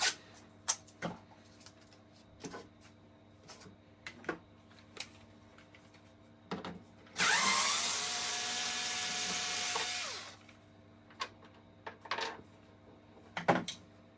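A power tool whirs steadily for about three seconds while loosening a fairing screw on a BMW F 900 GS motorcycle, with scattered clicks and taps of handling before and after, close up with no talk.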